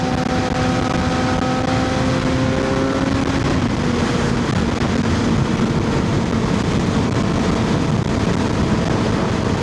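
A worn Suzuki GSX-R 750 motorcycle being ridden hard with the rear tire spinning, a loud continuous engine roar with a falling pitch sweep early on, heavy wind rush throughout, no talk.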